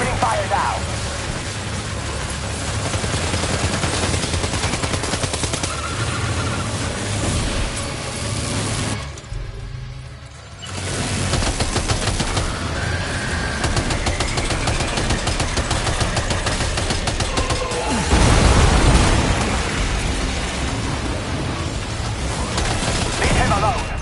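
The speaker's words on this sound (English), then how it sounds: "Opening fire now." Dense, sustained automatic gunfire fills a battle in the video game Death Stranding 2, broken by a brief lull partway through, with engine rumble underneath and a heavy thump later on.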